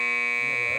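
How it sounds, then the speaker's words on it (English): A 1974 television game show buzzer sounds as one loud, steady, harsh electronic tone lasting under a second before cutting off abruptly. "Ever hear of a buzzer? Just got one."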